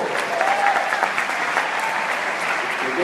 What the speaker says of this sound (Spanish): Un aplauso fuerte ahí